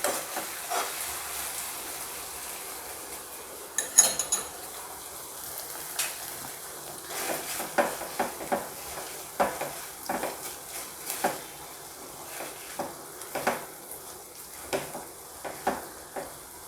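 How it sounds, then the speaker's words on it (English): Szechuan sauce being stirred into a vegetable mixture for veg Schezwan fingers, with repeated close spoon scrapes and clicks against a pan or bowl, in an irregular rhythm over a soft kitchen background hiss. "2 tablespoon of Szechuan sauce. Mix it thoroughly well."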